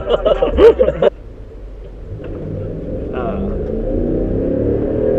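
Ram pickup truck accelerating hard, a deep engine rumble building steadily after a brief burst of loud cabin voices and noise at the start, then a sustained, rising drone heard from inside.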